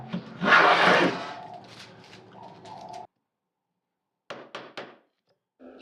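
Hand tools cutting grooves into wooden cabinet frame parts, a loud rasping stroke then lighter scraping, a pause, and a few short sharp scrapes near the end.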